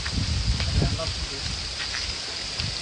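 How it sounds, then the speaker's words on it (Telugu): Steady rain falls on a windy hillside trail at a viewpoint in Gajuwaka, a continuous close hiss over low gusty wind rumble, with faint murmuring voices now and then. "వాన."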